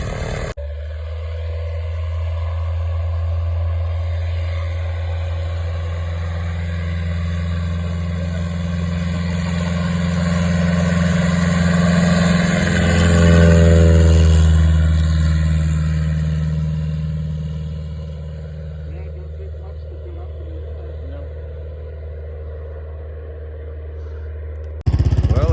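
An aircraft engine warms up before takeoff, a loud steady droning hum with a deep low rumble that swells around the middle, then settles and holds until the end.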